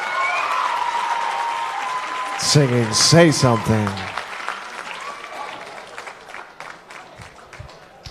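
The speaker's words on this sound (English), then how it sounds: "A standing ovation from the crowd." A crowd at a music showcase gives a standing ovation, with steady clapping and cheering that swells and then tapers off while an announcer speaks over it.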